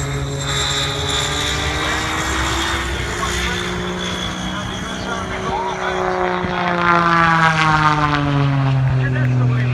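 Matt's airplane flies at the Cleveland National Airshow, its propeller engine droning loud and steady as the pitch slides down and back up in a pass, with an announcer talking over it.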